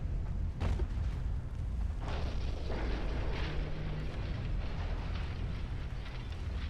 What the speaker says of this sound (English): I think I heard another torpedo launch.